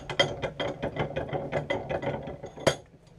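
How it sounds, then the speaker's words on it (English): An old bench vise tightens on a long piece of stock in a run of close ratcheting clicks and metallic creaks, ending in a sharper clack. "Put it in the old vise here."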